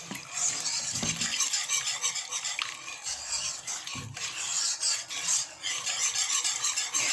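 Béchamel sauce stirred in a pan for a fish and vegetable gratin, a close, steady scraping swish of a utensil circling the pan bottom, continuous with a few sharper knocks, no talk.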